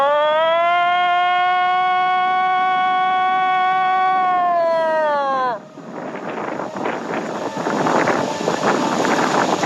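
A voice imitates a low Sasquatch location call, one sustained, steady, hooting howl lasting about five seconds, then cutting off into gusty wind buffeting the microphone.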